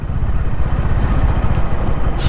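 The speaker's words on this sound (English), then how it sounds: "I definitely hear another sound, which is the thumping and roaring exhaust of CB350" A Honda CB350 motorcycle thumps loudly at close range, its exhaust giving a rapid, even pulsing roar that holds steady throughout while riding solo on a road with light off-roading.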